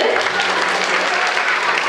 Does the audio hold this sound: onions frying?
no